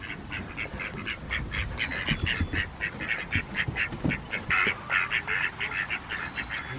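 Wet ducks on a farm quack repeatedly in a busy, overlapping chorus, fairly close, with steady rhythmic calls over a low rumble of background noise.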